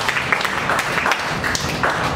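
During a Thursday church service, a congregation applauds in a dense, continuous wash of clapping, with little talk over it.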